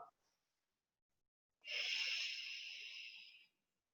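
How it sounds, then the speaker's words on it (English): A single long, breathy exhale blown out through pursed lips lasts about two seconds, soft and hissy, close to the microphone and heard on its own. "You should hear yourself as you're breathing out. It's like you're breathing out through a straw."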